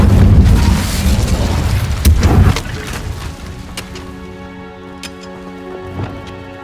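An Incendio fire spell in Hogwarts Legacy goes off with a loud, rumbling whoosh that dies down into a fading, ringing shimmer with a few faint crackles.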